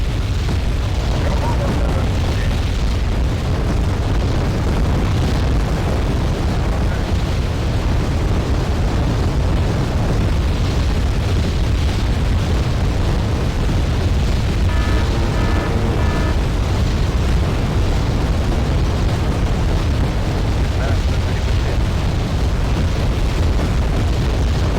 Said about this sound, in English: Missiles finally coming in to do damage